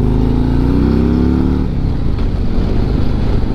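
A heavyweight touring motorcycle with a 117 engine runs loud and close, its deep engine note rising in pitch as it accelerates before settling into a steady rumbling drone.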